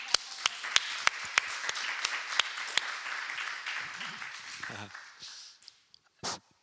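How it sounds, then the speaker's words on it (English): An audience claps for a performer at a live event, a burst of brisk hand claps at first that thins out and fades, with a brief voice at the close. "can we have a round of applause for Matthew"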